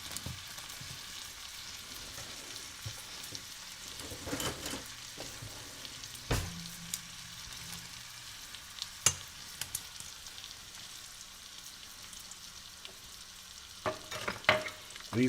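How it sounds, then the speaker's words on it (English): Pork chops sizzle and fry in butter in a hot pan with garlic bacon grease, a steady crackling hiss throughout with sharper pops and spatters scattered across, no talking. "You could hear the difference in the sizzle."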